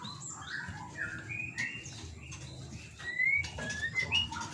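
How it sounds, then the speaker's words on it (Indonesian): Several bird species call around a large bird farm aviary housing white-rumped shamas: overlapping chirps, trills and rising whistled notes, moderately near, over a steady low background rumble. "Nah, yuk kicauan ini ada beberapa jenis sebenarnya."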